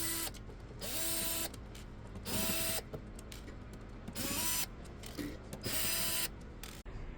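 Screws are removed from an arcade cabinet with a power screwdriver, sped up: repeated short whirring bursts of the driver, each a second or so long, separated by brief pauses and handling clatter.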